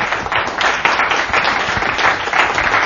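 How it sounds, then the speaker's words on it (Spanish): Applause from a workshop audience at a Spanish-language lean-startup event on freelancing, steady dense clapping throughout without pause, fairly loud and close. "un aplauso para"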